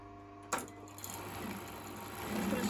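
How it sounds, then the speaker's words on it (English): An overlocker sewing machine finishes the fabric edges of a child's pair of shorts: a sharp click, then a steady, close mechanical whirr that grows louder toward the end. "I'm going to start by overlocking all the edges."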